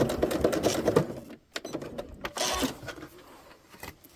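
A sewing machine back stitching on jeans at the tip of a dart while taking in the waist, running in short mechanical bursts of whirring and clatter with brief pauses, fairly close and with no talk.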